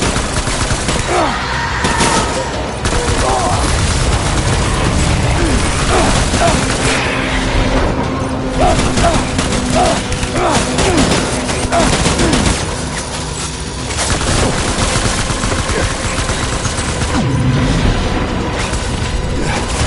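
Dense, continuous gunfire and explosions from a combat scene in the video game Death Stranding, with rapid bursts layered over constant loud battle noise for the whole stretch.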